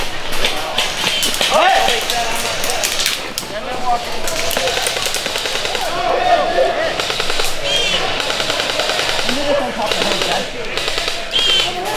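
Rapid automatic gunfire from a video game fills the mix alongside bursts of other game effects, steady and fairly loud throughout, with players talking over it.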